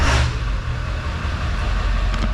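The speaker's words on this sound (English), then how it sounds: "This is first start after the turbo." A 2000 Ford F350 diesel engine just after a KC300x turbo install, running loud and steady close by with a low, rumbling idle after its first start.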